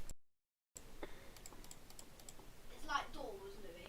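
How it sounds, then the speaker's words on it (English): Keys clacking on a computer keyboard during a Roblox gaming session, a quiet run of soft irregular taps after a brief dropout, with a short burst of background game sound near the end. "Oh, wait, you hear me typing?"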